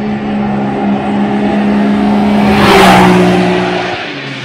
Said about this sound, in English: lot of wheel spin, but definitely a decent launch.